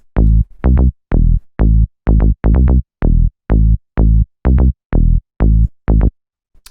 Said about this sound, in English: the first sound we have here is the bass